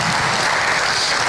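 Dense, steady applause from an event audience at the Yarl Dreamin' 25 Salesforce community opening ceremony, continuous and loud throughout with no voices standing out.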